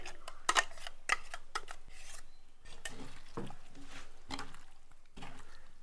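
Wet squishing and rubbing as masala is worked by hand into scored sardine pieces for a Kerala fish fry, a few louder clicks at first, then soft steady handling close up.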